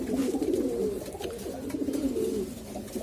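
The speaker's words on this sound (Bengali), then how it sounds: "কবুতরগুলা জোড়া দিছি ভিউয়ার্স কবুতরগুলা অস্থির অবস্থায় আছে পুরো হিটে আছে একদম" Paired pigeons in a loft, restless and in heat, coo continuously in low, throaty, overlapping calls, close by and fairly loud, with no talking.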